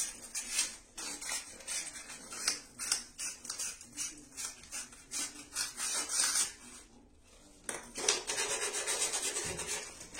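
Sandpaper rubbed by hand over a surface during a bathroom renovation, quick rhythmic rasping strokes, fairly close but soft, with a short pause before the scraping resumes.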